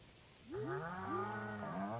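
A cow in the Stardew Valley farm game lets out several quick, rising moos that overlap into one another, clear and close, over a quiet background.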